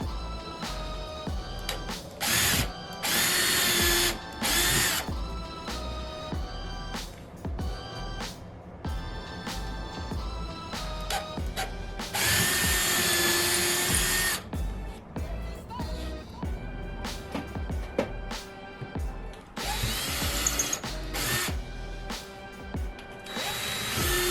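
Power drill whirring in repeated bursts, driving screws into wood, with short pauses between runs and clicks of handling.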